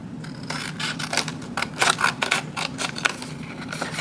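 Paper and cardstock for a handmade summer folio being cut by hand, giving a run of crisp, close snips and slicing strokes in an irregular rhythm over a low steady hum, with no talking.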